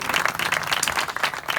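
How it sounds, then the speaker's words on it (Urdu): A church congregation applauding for Brother Naveed, a dense, steady burst of many hands clapping at close range, brief and without talk. "تالیاں بجا دیں ذرا بھائی نوید کے لیے."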